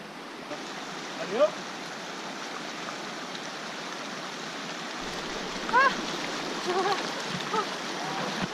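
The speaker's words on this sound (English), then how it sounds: "We got ourselves a river crossing." A fast river rushes steadily and loudly at close range at a trail crossing on the Markha Valley trek in Ladakh, high in the Himalayas, with a few brief faint vocal calls over the continuous roar.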